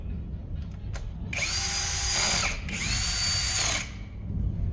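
A power drill drives screws while a GOBEL 15 kWh home solar battery is installed, in two sustained whirring bursts of about a second each, close and loud, with a short pause between them and no talk.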